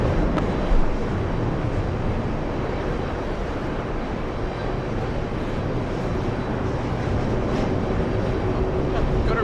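An airliner takes off at JFK airport with a loud, steady jet roar that lasts the whole time, heard from the spotting area.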